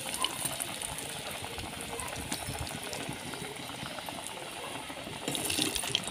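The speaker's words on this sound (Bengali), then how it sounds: "এবার তেলের মধ্যে ছেড়ে দিচ্ছি।" Vegetable chops sizzling as they fry in hot oil, a steady close bubbling crackle that holds throughout and swells louder near the end.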